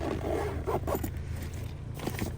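Zipper on a Pecute cat carrier backpack with a double zip, pulled in several quick rasping strokes close up over a couple of seconds.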